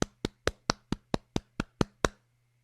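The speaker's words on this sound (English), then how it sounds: "round of applause" A round of applause on a televised sports talk show, heard as about ten crisp, evenly spaced claps. They are close and isolated, then stop abruptly, with no talking.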